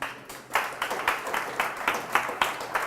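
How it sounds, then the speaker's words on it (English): An audience at a Blackmagic Design conference and expo session in Kenya applauds, with a rhythmic patter of claps pulsing steadily over about three seconds at moderate, roomy volume. "Can you give him a round of applause that will reach all the way to South Africa, please?"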